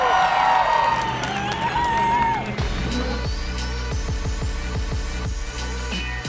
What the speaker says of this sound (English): Everybody make some noise for Fast Eddie, our Mickey Thompson Burnout winner.